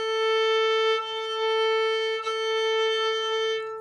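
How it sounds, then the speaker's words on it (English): A single violin note bowed lightly and sustained, thin and airy in tone, with a couple of soft bow changes and no talking. "it's going to have this very wispy, light kind of floating sound like this"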